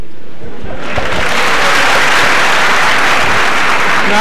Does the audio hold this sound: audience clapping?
yes